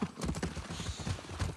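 Horse hooves clip-clop in a steady irregular patter in The Last of Us Part II, moderately loud and close, with a faint mechanical background.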